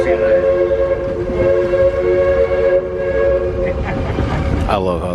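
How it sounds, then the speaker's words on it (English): Steam train whistle at Fantasyland, a loud sustained multi-tone blast echoing through woods on Christmas Day, with crowd murmur beneath and a voice near the end. "I love how the train whistle echoes through the woods like that."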